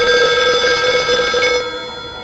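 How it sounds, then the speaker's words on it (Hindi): An old telephone rings in a bright, continuous electronic trill inside a haunted phone booth in a Hindi horror radio drama, loud and alone before it fades slightly at the end. "शायद प्रीति को रिंग गया हो और उसी ने पलट के फोन किया हो"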